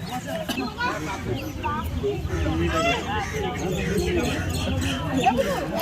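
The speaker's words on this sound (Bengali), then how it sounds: "এগুলো কোয়েল পাখি।" Quail chirp and cluck in a busy flock, with people talking over the continuous bird chatter.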